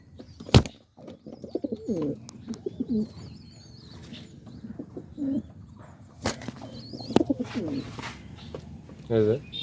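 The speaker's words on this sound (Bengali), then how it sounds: "এখানে লাহোরি কবুতর আছে লাহোরি কবুতর দেখাবো একটু পরে" Lahori pigeons coo in a loft, soft low rolling calls recurring every few seconds close by, with sharp wing flaps and clatters and someone talking intermittently.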